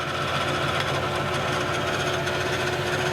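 A metal lathe turns at its slower threading speed, giving a continuous mechanical drone with steady rattling and a faint whine, close and even throughout.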